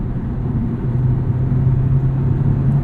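A 2006 Acura RSX Type-S engine drones steadily while driving, its low hum climbing slightly as the revs build, with continuous road rumble underneath and no voices.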